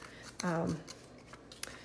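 Scissors blades scraping along the edge of paper to distress it for a stamped birthday card with pressed petals, heard as a few brief, close rasping strokes in a quiet room, with a short tonal sound in the middle.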